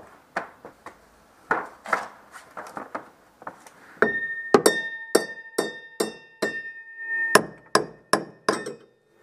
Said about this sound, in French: je vais essayer de la décoller au marteau